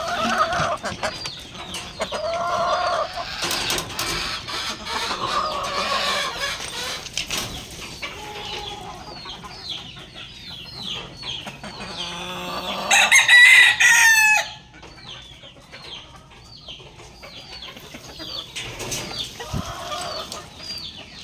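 A hen in a backyard flock clucks repeatedly after laying, with a rooster crowing and other chickens calling around her, including one loud, raspy burst partway through.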